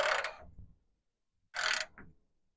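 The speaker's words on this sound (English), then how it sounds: "We went to the swivel 3/4 ratchet" Swivel-head 3/4-inch ratchet working a stubborn bolt, two short bursts of bright clicking and scraping separated by a pause, close and fairly quiet.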